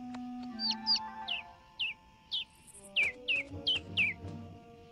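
Repeated thin, high chirps from a baby bird in an animated film, about ten in an uneven series, clear and close above a faint low hum.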